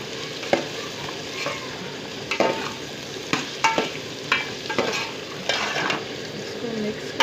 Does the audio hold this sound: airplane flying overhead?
no